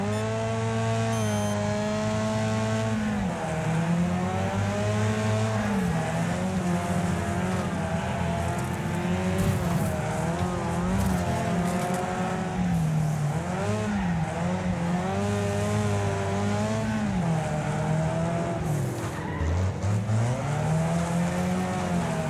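Race cars in Wreckfest roar continuously, engines rising and falling in pitch through gear changes alongside squealing tires, a dense, loud, unbroken mix of several vehicles with no talk.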